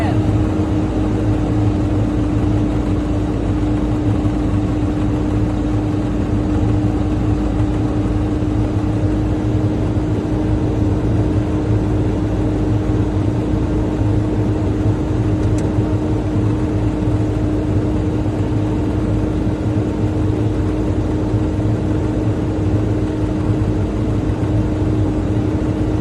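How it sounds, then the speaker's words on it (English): A truck's idling diesel engine is held at raised revs to build air brake pressure toward cutout, a steady, loud, unbroken drone with a constant hum throughout. "I'm gonna go ahead and rev it to speed up the process."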